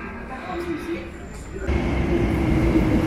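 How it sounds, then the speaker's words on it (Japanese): A Brussels metro train pulls into an underground platform, a steady low rumble swelling louder and closer partway through, with faint echoing station ambience. "一番の電車が来たので、"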